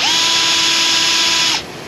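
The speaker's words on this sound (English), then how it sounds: "I've never drilled an AC fitting out before." A power drill whines loudly and steadily up close while drilling out an AC fitting on a Chevy Cobalt, then spins down and stops near the end.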